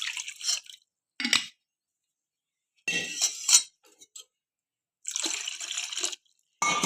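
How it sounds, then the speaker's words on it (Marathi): Cold water from a fridge is poured into boiled raw mango in short bursts, with several separate splashy pours and clinks separated by brief silences. "पाणी आपण यामध्ये टाकून घेऊ."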